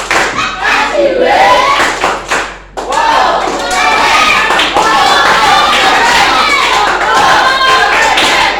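An audience claps in rhythm at an outdoor gathering, with thumping beats and crowd shouts and voices mixed in loudly over about eight seconds, broken by one short dip partway through.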